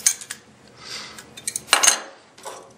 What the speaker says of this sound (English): put the check valves back into place. Use our wrench to tighten those down.